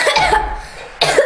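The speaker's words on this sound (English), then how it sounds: "But if I breathe air, I cough." Two sharp, close coughs from a person who coughs when breathing air, about a second apart, with no talk.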